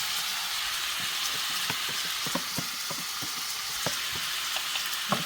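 An onion mixture frying in a pan for cabbage roll soup, a constant hiss of sizzling with scattered soft pops and knocks from stirring, steady and fairly near, no one talking.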